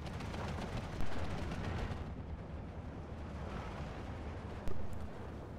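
Machine-gun bursts and heavy tank cannon fire from a Steel Division II battle rumble in a dense, continuous wall of gunfire, with two sharper, louder blasts punching through, one near the start and one near the end.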